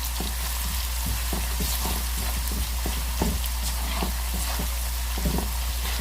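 Onions frying in a pan for beef pasanday, giving a dense, steady sizzle with faint clicks and stirring taps throughout, close and continuous with no talking.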